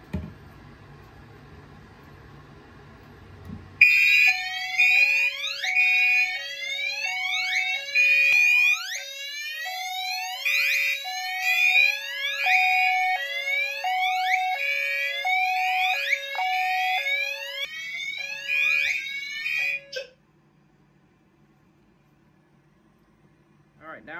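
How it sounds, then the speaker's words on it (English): A Fire-Lite H355 fire alarm on an MS-9600UDLS system sounds a loud, close warbling whoop, sweeping tones that repeat steadily for about sixteen seconds and then cut off abruptly into quiet. "now we're going to go ahead and re-alarm again with the Fire-Lite H355"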